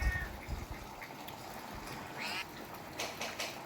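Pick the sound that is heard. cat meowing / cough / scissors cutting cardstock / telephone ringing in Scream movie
cat meowing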